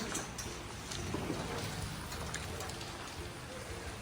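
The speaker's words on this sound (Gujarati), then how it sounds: "વરસાદ અત્યારે મિત્રો ચાલુ છે" Steady rain falls outdoors, a dense even patter and wash of drops that stays constant throughout, close and moderately loud with no voices.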